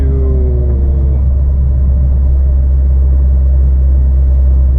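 A heavy haul truck's big diesel engine rumbling loud and steady as the rig slows and downshifts, with a deep drone that eases slightly early on before holding low.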